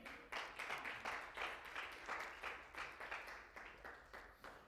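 A church congregation claps hands in steady rhythmic unison during a Sunday service, a continuous run of fairly faint, evenly spaced claps with no talk over them.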